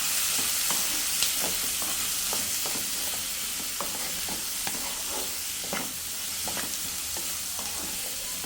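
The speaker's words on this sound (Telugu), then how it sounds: "సో ఆనియన్స్ ఒకసారి కలుపుదాం." Chopped onions frying with mustard seeds, cumin and curry leaves in a pan for tomato and egg curry, a constant loud sizzle with a spoon scraping and stirring in quick repeated strokes, no voices.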